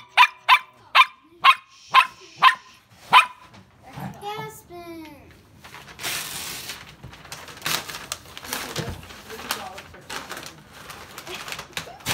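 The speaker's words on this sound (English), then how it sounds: "And here we go with a dog barking again." Seven sharp, evenly spaced dog barks ring out up close, followed by chirping birds and indistinct household voices and clatter.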